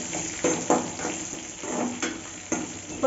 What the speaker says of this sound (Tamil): ஒரு 2 நிமிஷம் போல் நல்லா இது எல்லாத்தையும் வதக்கி விட்டுக்கோங்க.